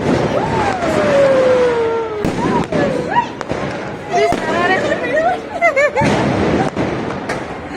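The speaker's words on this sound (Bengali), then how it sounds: "আতশবাজি হ্যাঁ ওটা যাবে।" Fireworks explode outdoors with several sharp bangs and whistling streaks, heard beneath nearby people talking and chattering.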